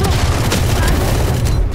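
A grenade blows up in a Valorant competitive match: one loud, close boom that fills the whole short moment with heavy low rumble, and a voice talks faintly underneath.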